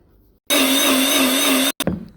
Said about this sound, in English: So I'm gonna put it in the blender.